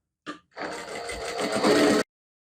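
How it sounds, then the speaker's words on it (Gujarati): After a brief tap, a sewing machine runs in a single quick burst of rapid stitching along a sleeve edge, close by, then stops abruptly. "બાહીમાં એક અહીંયાથી આમ સિલાઈ લગાવી લેવાની અહીંયાથી અહીંયા સુધી કિનારી પર"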